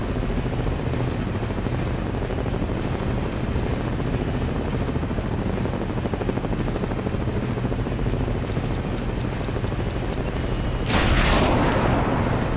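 Military helicopter in the tactical shooter Ghost Recon Advanced Warfighter, its loud, steady rotor thump and engine drone filling the scene, with a sudden blast bursting in near the end.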